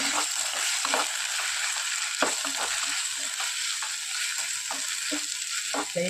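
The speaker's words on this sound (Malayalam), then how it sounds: "ആ ഗ്രേവി ചേർത്ത് കൊടുക്കാം നന്നായിട്ടൊന്ന് മിക്സ് ചെയ്യുക" Ground chili and onion gravy being stirred into fish frying in a pan for a Kerala-style fish roast, a steady close sizzle broken by repeated scraping stirs, with no voices.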